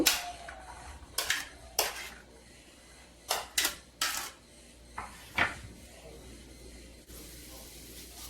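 Washed, finely chopped potatoes tipped into a pan with a little oil, heard as a series of sharp close clatters and scraping knocks in uneven bursts over a quiet background.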